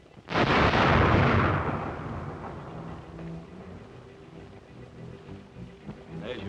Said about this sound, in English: There's your rocket.